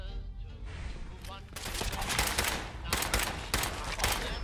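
Repeated gunshots in the video game Fallout 4, loud sharp bursts arriving in clusters over steady game noise, close and intense, with someone talking over it.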